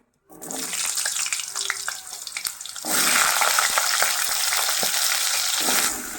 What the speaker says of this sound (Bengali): এগুলো আমি ভেজে নেব এই তেলের ভিতর